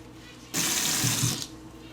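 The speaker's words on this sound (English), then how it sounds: "I'm going to take this out of the stocking and rinse it out" Wool is rinsed under a running tap, a sudden close rush of water that runs for about a second before cutting off, leaving quiet room tone.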